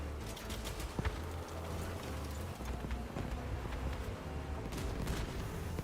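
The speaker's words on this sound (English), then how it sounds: "Someone's out here just spamming grenades." Grenades are fired in rapid succession in the vehicle combat game Crossout, with dense crackling explosions and scattered bangs over a steady rumble, moderately loud and continuous.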